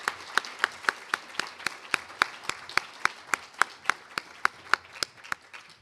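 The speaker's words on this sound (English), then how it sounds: "What about another round of applause to Dr." Slow, evenly spaced claps ring out, about three per second, from a small audience applauding a keynote speaker at a summer research academy event, with a soft murmur underneath.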